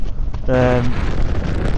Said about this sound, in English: It's just so windy